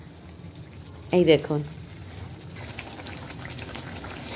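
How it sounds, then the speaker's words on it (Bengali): Pua pitha fry in hot oil with a soft crackling bubble beneath a woman's brief spoken remark, and the frying continues quietly after she stops. "একের পর এক এরকম আমি সব পিঠেগুলো ভেজে তারপর ওর বাবাকে খেতে দেবো।"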